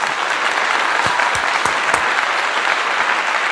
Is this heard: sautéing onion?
no